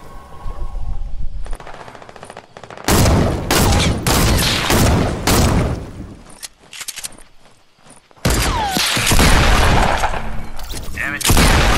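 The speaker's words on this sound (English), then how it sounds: "Trying to kill this guy with my sniper." Sniper rifle fire and other weapons in a Fortnite match, with loud sharp bursts repeating in rapid clusters, a brief quieter gap midway, then more heavy gunfire, while a player talks over it.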